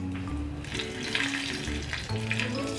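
Hot tempering of fried mustard seeds and curry leaves is poured onto thick kurukku kalan curry, raising a brief, close sizzle and crackle with no voices.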